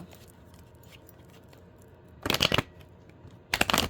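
Tarot cards are shuffled by hand in two brisk bursts of riffling flutter, each lasting about a third of a second, set apart by quiet room tone with no talking.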